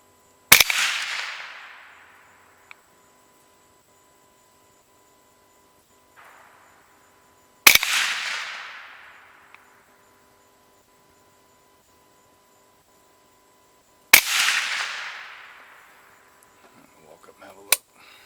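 Three loud, sharp rifle shots from a 300 Blackout firing 110-grain rounds at a 75-yard bench range, each crack followed by a long decaying echo, spaced several seconds apart with quiet between.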